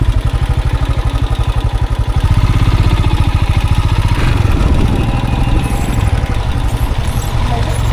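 A motorcycle engine runs loud and close throughout a ride from Digboi to Kaho, with a steady low rumble and a fast pulsing beat, while a voice talks over it.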